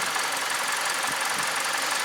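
Steady, close engine noise from a used Hyundai LF Sonata, a dense continuous hum that holds even for a couple of seconds with no talk over it.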